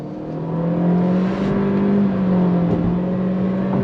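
A 2023 Acura Integra base model with a CVT pulls under throttle, its engine holding a smooth, steady droning whir heard from inside the cabin, with no talk over it.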